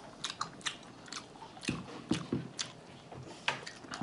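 Chicken wings being bitten and chewed up close, a string of crisp bites and wet chewing sounds spread over several seconds, fairly quiet with no talk.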